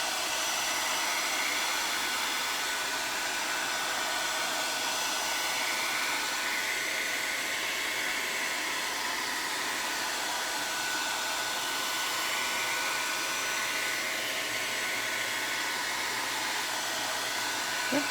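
A hair dryer blows steadily and close by on a DIY Valentine picture frame, a continuous airy whoosh with no pauses or speech throughout.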